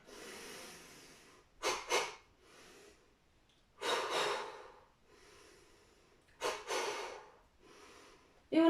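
Forceful exhales during a home do-in exercise session, three strong breaths blown out at even intervals with quieter breathing between, close and clear.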